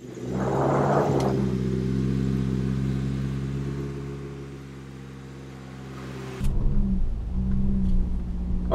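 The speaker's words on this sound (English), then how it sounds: "We're in four-wheel lock to see how the CVT handles this hillside" A 2015 Mitsubishi Outlander Sport with a CVT, locked in four-wheel drive, crawls slowly up an off-road hillside, its engine a loud, steady low drone that eases slightly, then jumps in a sudden rougher surge near the end, with no talking.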